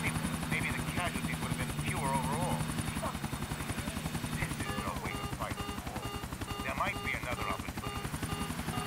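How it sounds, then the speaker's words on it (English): A helicopter in the video game GTA IV thrums with a steady rotor chop throughout, under someone talking and scattered game sounds. "We couldn't get a clean shot on the chopper."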